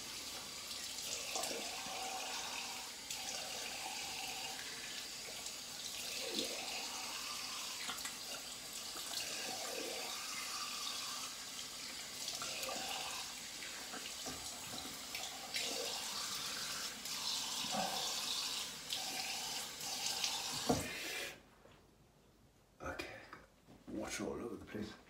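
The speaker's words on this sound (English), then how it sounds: "So I'll rinse" A razor being rinsed under a running bathroom tap during an old-school wet shave with a Weck Sextoblade, steady splashing water for most of the stretch before it cuts off, with someone talking intermittently over it.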